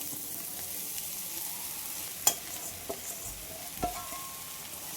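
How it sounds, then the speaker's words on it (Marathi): Onion fries with turmeric and salt in an iron kadai, giving a soft continuous sizzle broken by a few sharp scrapes of stirring, quiet and close with no voices. "आपण आता कांदा आपला भाजत आलेला आहे, त्यातही थोडीशी हळद आणि मीठ कांद्यामध्ये टाकून घेऊ"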